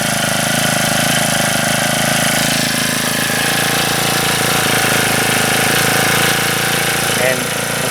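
A Husqvarna 224L/324L 4-cycle string trimmer engine idles steadily and evenly up close, with a constant mechanical hum and a faint vibration from start to finish.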